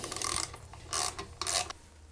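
A ratchet fitted with a 13mm socket works loose the lower unit bolts on a Mercury/Tohatsu 4-stroke outboard, giving three close bursts of raspy clicking over about two seconds with short pauses between them.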